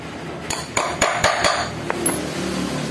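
Several sharp metallic taps ring out close by, a quick cluster of hammer strikes on a center punch marking metal, followed by a couple of lighter knocks.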